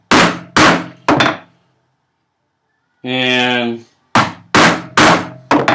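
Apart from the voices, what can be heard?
chisel chopping housing dados in wooden workbench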